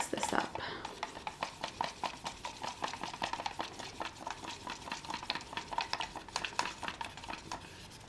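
Acrylic pour paint being mixed in a cup, a steady rhythmic scraping and tapping of the stirrer, close and quiet, repeating quickly and without pause.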